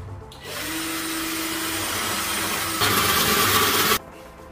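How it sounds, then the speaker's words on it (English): A power drill with a concrete drill bit bores into the wall while a mirror door is installed, a steady loud whirring drone close by that rises in pitch and intensity near the end, then stops abruptly. "after countersink, we using the concrete drill bit"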